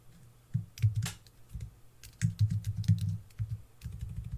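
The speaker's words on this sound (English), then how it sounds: "So let's just type in star, comma, space." Someone types on a computer keyboard in short bursts of soft, close clicks separated by brief pauses.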